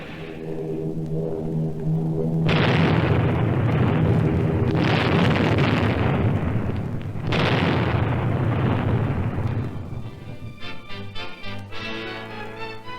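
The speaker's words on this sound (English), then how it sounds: "It came on a Sunday morning in December with the aerial bombardment of Pearl Harbor." Large explosions from the aerial bombardment of Pearl Harbor, several heavy booming blasts with rumbling roar, followed by fading crackle and music at the end.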